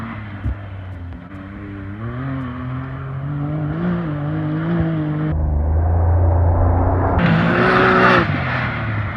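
A Can-Am three-wheeler tears across a dirt course, its engine droning and rising steadily as it accelerates, loud and close, with the pitch climbing toward the end.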